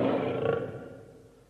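A lion's roar as a sound effect, loud at the start and trailing off over about a second and a half, heard alone.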